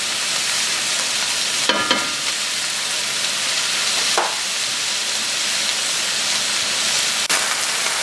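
Ground meat for Greek-style smoked lamb stuffed peppers sizzles steadily in a hot pan, a continuous close frying hiss broken by a few brief stirring scrapes.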